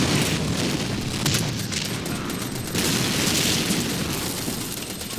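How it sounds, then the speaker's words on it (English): A grenade explodes amid dense battle noise in the video game Men of War: Red Tide, with heavy booms and crackling gunfire forming a loud, continuous roar and no talking. "Another grenade just to be sure."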